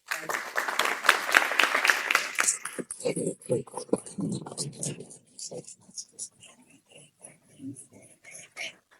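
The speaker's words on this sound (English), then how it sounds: "I would like you to help me welcome our esteemed guest with a round of applause" A lecture audience applauds to welcome an esteemed guest: dense, steady clapping fills the first few seconds and then gives way to someone speaking over a few lingering claps.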